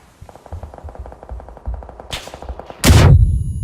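A grenade explodes in the battle royale shooter PUBG, a sudden loud broadband blast near the end, preceded by a rapid series of gunshots and a brief sharp crack.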